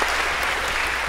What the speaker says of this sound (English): a round of applause, if we could, for finding 50 so well